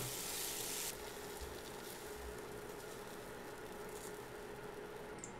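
Tomatoes sizzle and fry in mustard oil in a pan, a steady close hiss throughout that is slightly louder during the first second.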